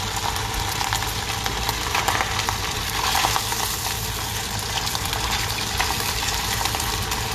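Polenta fries frying in hot oil give a steady, dense sizzle and crackle that holds even and fairly loud throughout, with no voices.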